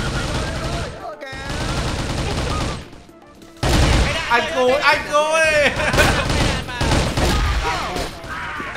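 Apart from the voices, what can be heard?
gunfire from a rifle in a video game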